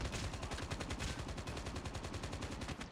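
Continuous gunfire in the mobile shooter game Call of Duty: Mobile, a dense rattle of rapid shots running throughout at a fairly low, steady level.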